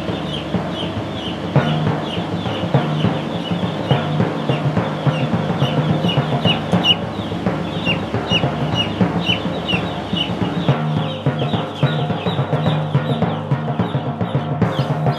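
Ten thousand two-day-old chicks fill a poultry barn with a constant dense chorus of high peeping and cheeping, steady and loud throughout, with a low mechanical hum underneath.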